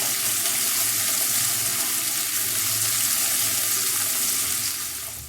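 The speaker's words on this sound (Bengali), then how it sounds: "পেঁয়াজটা একটু ভাজা ভাজা হোক, তারপর কুমড়োটা আর আলুটা দেব।" Onions fry in a pan for a pumpkin and potato dish, a steady, close sizzle with dense crackling hiss that runs unbroken and fades slightly at the end; no one talks.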